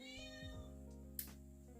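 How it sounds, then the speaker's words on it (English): A small cat meows close by, one short plaintive call standing out over a steady hum of background tones, with no talking. "forgive me if you hear Midori, my little cat, meowing in the background"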